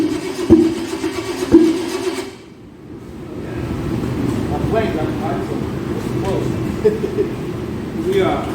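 A 383 stroker engine on a homemade run stand rumbles and churns after a brief dip, running rough and steady beneath loud talking voices close by.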